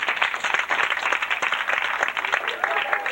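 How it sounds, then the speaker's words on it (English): Comedy-club crowd clapping during a stand-up show, a dense burst of many hands with uneven claps standing out, loud and close throughout. "Just clap if you're over 30."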